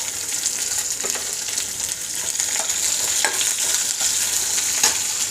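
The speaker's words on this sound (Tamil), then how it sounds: "சாம்பார் வெங்காயம் போட்டுக்கலாம்." Finely chopped small sambar onions sizzle steadily in hot oil during a tempering, with bursts of scraping as a spoon stirs the pan; the frying hiss stays continuous and close.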